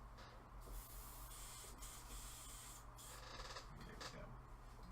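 Airbrush spray of Vallejo Mecha Color acrylic paint, a steady close hiss running throughout with slight pulsing, over a low background hum.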